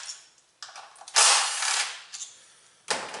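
A ratchet on 8mm bolts of a Ford Focus 2.0L valve cover gives quick clicking bursts with short pauses between them, close and fairly loud.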